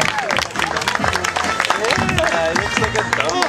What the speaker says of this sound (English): Let's give a big round of applause and applause to Dieter